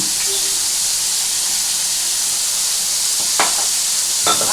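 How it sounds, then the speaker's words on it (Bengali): Ridge gourd stirred in a pan for a prawn and coconut curry: a loud, even hiss of cooking runs throughout, broken near the end by two short scraping strokes. "দেখো আমি ঝিঙেতে নাড়ছি"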